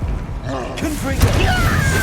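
A Confringo explosive curse is cast in Hogwarts Legacy, with a booming, creaking burst that erupts mid-clip and rings on over game sounds.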